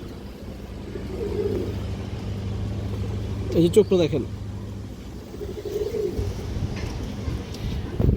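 An Indian Nazra Kaldom male high-flyer pigeon gives a couple of soft, throaty coos, with a burst of fluttering or handling noise between them, as someone talks nearby.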